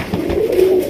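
A Raj Golla pigeon gives one short, throaty coo, close and fairly loud, with a low rumbling tone sliding slightly upward.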